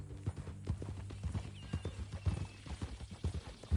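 Horse hooves clip-clop at a steady walking rhythm in a video game's ranch setting, the hoofbeats close and distinct, with a faint whinny in places and no talk over them.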